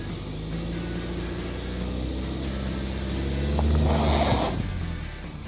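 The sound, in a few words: stuck car spinning tires on packed twigs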